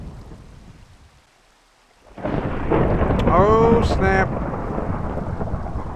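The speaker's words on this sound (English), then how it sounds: "So the magnificent thunderstorm we just had is now over." Heavy thunder rumbles and rolls in a Minecraft thunderstorm, bursting in loudly after a quiet moment and continuing over steady rain, with a voice speaking briefly.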